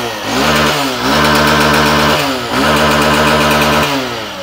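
A 2024 Hero Super Splendor Xtec 125 cc motorcycle engine revs loudly and close under throttle, rising three times in repeated surges, each climbing in pitch and then dropping back toward idle.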